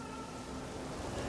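Rain falls in the video game The Witcher 3, a soft, even hiss of steady downpour, faint and brief with no voices.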